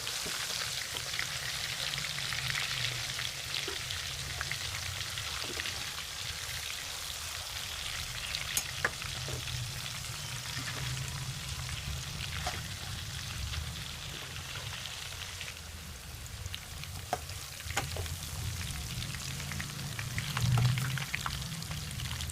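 Chicken pieces for Malabar chicken biryani fry in oil with a steady, moderate sizzle and crackle, a rain-like hiss broken by occasional pops and faint clicks of turning, no talking.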